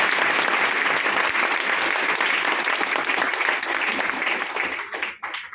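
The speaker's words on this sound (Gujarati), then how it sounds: "જોરદાર કે બધા તાળી" An audience at a business meeting breaks into loud, sustained applause, a dense wash of clapping that holds for several seconds before quickly dying away.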